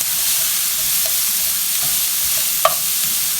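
Apple pieces sizzling in a hot pan over medium heat, a steady broadband hiss throughout with a few small pops and one sharper crackle near the end, close and fairly loud, no voices.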